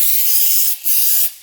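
Aerosol brake cleaner hisses into an open quad engine case in two sharp, close sprays separated by a short gap, a bright steady jet of spray with nothing else audible.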